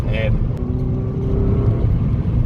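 A Mazda 2 fitted with a short ram air intake pulls hard in second gear, its engine note loud and close as the steady drone rises in pitch through the pull.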